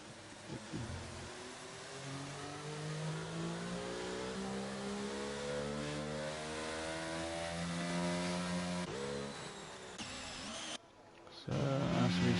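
Race car engine on track in a racing video game, a steady high revving drone climbing through gears with smooth harmonic sweeps, loud and continuous before a sudden cut and shift near the end.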